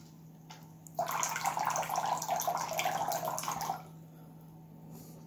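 Water squeezed from an upside-down bottle rushes through the outlets of a water cooling system, a steady hissing flow lasting about three seconds against a low hum, then stopping abruptly.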